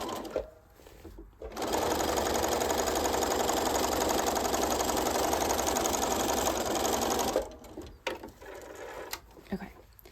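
Sewing machine stitching bodice seams, a fast steady whirring chatter that runs for about six seconds, close and clear, with quiet handling noises before and after.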